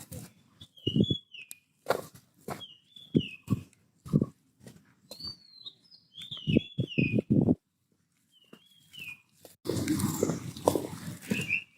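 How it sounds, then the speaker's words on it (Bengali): Birds chirp in short, repeated high calls at Ramsagar Dighi in Dinajpur, a quiet setting, with soft thuds between the calls and a burst of broadband noise near the end. "পাখির আওয়াজ শোনা যায়"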